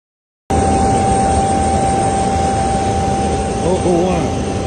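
A private jet's engines roar steadily after a brief silence, a loud, constant whine with a sustained tone, close by and unbroken, with a faint voice-like warble near the end.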